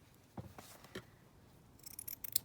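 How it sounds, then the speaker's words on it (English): Scissors snip through the material of a journal cover being trimmed, a few crisp close cuts spaced apart, followed by a quick run of sharper clipping snips near the end. "And then we're just going to trim this down. Just trim that off there."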